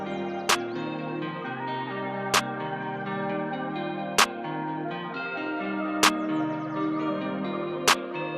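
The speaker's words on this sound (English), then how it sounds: "we just have this clap and snare" Sharp, bright clap-snare hits strike about every two seconds, five in all, over a sustained layered musical backdrop.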